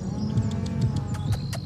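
Cattle in a pen lowing, with several overlapping moos and low bellows over a steady rumble of livestock noise, moderately close.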